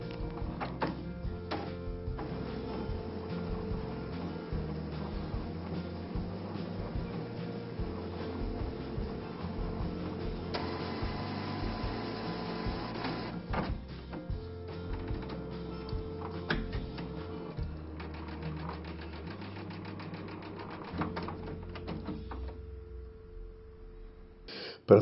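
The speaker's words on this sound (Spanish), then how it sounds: "La limpieza se realiza bombeando tinta que se desecha al depósito de residuos." An inkjet printer runs a head cleaning cycle, pumping ink to the waste reservoir, with continuous faint mechanical whirring, gear grinding and ratcheting clicks plus occasional thunks, ending in near silence.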